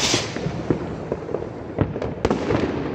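New Year's firecrackers and fireworks pop and crack in a dense, irregular barrage, with several sharper, nearer bangs standing out over a continuous rumble of distant explosions.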